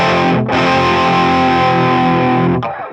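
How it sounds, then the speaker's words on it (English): Distorted electric guitar plays a G bar chord with whammy bar, two loud sustained strums a couple of seconds apart, the chord dipping and wavering slightly as it rings before fading. "With a bit of whammy bar action."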